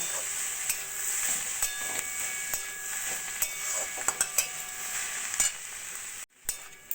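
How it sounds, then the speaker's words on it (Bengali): Radish greens frying in mustard oil with sugar and flour, stirred with a spatula: continuous close sizzling with repeated scraping and light clinks of the spatula on the pan, no voices. "এইভাবে খুন্দির সাহায্যে আমি একটু মিশিয়ে নেব তাহলে বেশ আর একটু মাখা মাখা হয়ে যাবে"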